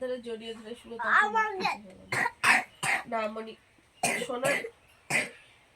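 A voice talks and babbles, broken by several short, sharp coughs close by.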